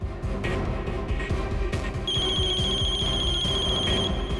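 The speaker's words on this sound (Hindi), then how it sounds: "फोन उठाओ।" Halfway through, an electronic telephone ring begins, a steady bright trill that continues to the end. Tense rhythmic drama music with sharp hits plays underneath the whole time in a TV crime serial scene.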